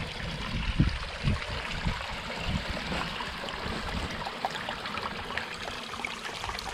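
Water trickling and burbling along a cobble-lined stream in a garden water feature, a close, continuous gurgle with small splashes and a few louder plops early on, no voices.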